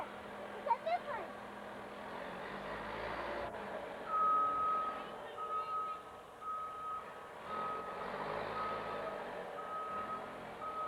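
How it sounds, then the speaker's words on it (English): A snow plow truck backs up during the Blizzard of '96 in Port Richmond, Philadelphia, its reversing alarm beeping steadily in a long, evenly spaced series over a constant engine rumble, with people talking nearby. "And here comes the snow plow."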